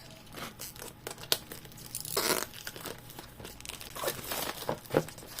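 The cardboard box of a Daxing Mach Frame FMA chassis kit, a Tamiya copy, being opened, with close crinkling, tearing and crunching of thin card and wrapping in irregular bursts, one louder rip in the middle.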